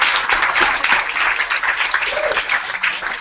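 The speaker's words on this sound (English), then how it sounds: "Let's give a round of applause to Ticketmaster." Audience applause at a live tech talk event, steady dense clapping from a crowd filling the room at even loudness throughout, with no voices over it.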